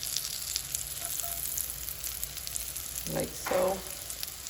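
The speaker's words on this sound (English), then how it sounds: "let these brown for, 2 to 3 minutes, and then I'm gonna turn them over" Cauliflower gnocchi fry in melted butter with a soft, steady sizzle and crackle, joined near the end by a brief spoken remark.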